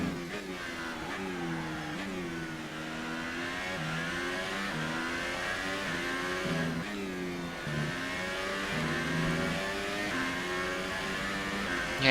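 F2 race car engine in a racing video game at Belgium, revving and shifting through gears on a lap, a loud, continuous, close engine note rising and falling with the throttle for the full stretch.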